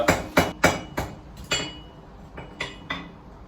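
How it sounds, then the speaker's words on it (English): Hammer forging hot steel for a pair of scissors, about ten sharp ringing metallic blows landing in quick bursts and then slower, loud and close, with no talk. "And just roll it under my hammer."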